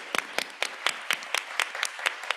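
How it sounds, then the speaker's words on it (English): Clapping at a school board business meeting for a new education graduate, a steady rhythm of about ten distinct, evenly spaced claps from a few hands, fairly close and otherwise quiet. "let's give Ebony a big round of applause"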